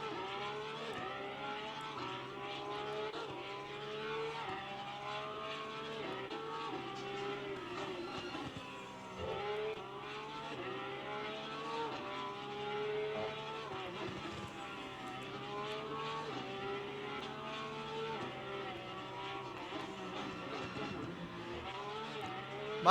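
Race car engines drone and shift pitch as cars thread the chicanes at Zolder in a sim racing game, a steady layered roar of several cars revving up and down throughout, with no pauses.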